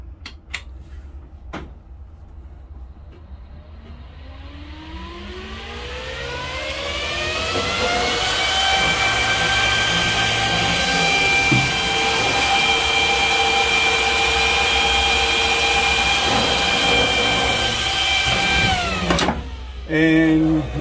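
A single fan in a Silverstone DS380 ITX server case clicks on and winds up over several seconds. Its whine rises steadily to a loud, constant high-speed roar with a clear tone, then cuts off with a clunk near the end.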